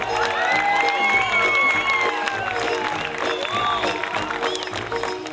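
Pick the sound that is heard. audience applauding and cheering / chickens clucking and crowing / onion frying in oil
audience applauding and cheering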